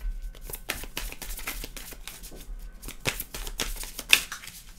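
Tarot cards being shuffled and cut by hand, a run of crisp riffling flutters and slaps in quick bursts, close and fairly loud, no voices.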